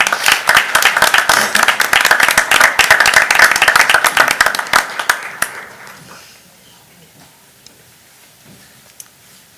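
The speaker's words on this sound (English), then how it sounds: "So congratulations again. Round of applause." Applause at a school board of education meeting, a close burst of crisp hand claps that thins into scattered claps and fades to near silence after about six seconds.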